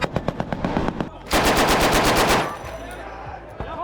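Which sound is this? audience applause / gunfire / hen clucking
gunfire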